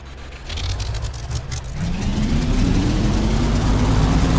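Radial piston engine of a Corsair warplane in the DCS flight simulator starting up, a rough low rumble that swells after about two seconds into a steady, loud, close running drone.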